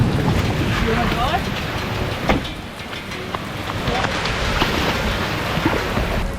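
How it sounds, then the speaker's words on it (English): A flooded creek on Horn Island in the wet season. Floodwater rushes past as a loud, steady broadband roar, with gusty wind noise on the microphone throughout. "Look at that, it's an absolute torrent going on here."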